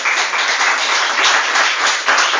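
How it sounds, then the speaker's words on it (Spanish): A church congregation applauds, giving dense, steady, loud clapping from many hands that fills the room without letup. "¿Quieren dar un aplauso a la palabra de Dios?"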